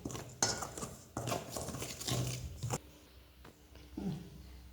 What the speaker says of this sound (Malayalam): കുറച്ച് പഞ്ചസാര, മഞ്ഞൾപ്പൊടി ഇട്ടു, ഉപ്പ് ഇട്ടിട്ട് ഇത് കലക്കണം